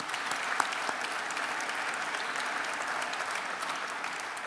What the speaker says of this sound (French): je pense qu'on peut les applaudir parce qu'ils ont fait un travail remarquable